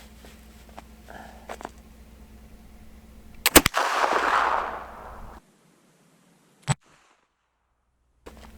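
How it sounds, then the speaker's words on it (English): A flintlock rifle fires one sharp, loud shot at a target during sight-in, followed by a short rumbling echo and then quiet broken by a couple of faint clicks. "So we're gonna shoot at the left target this time."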